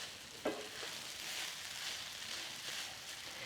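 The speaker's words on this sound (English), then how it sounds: "We're going to cook the peas now for about 2 minutes." Frozen peas cook in a pan for chicken fried rice, sending up a soft, steady sizzle that stays quiet and even, with one brief utensil clink near the start.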